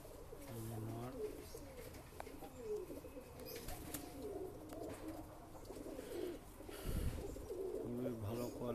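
A setting pair of Kaldum pigeons coos nearby, with repeated low, throaty coos rolling over one another against a soft background.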